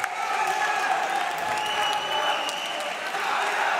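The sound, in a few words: crowd applauding at Yu-Gi-Oh YCS Utrecht final win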